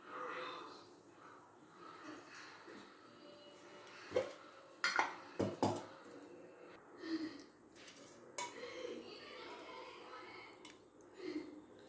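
Tomatoes and onions being sautéed in a pan for tomato sambar, heard as metal utensils scraping and clanking against the pan with a few sharper knocks midway over a steady low kitchen background.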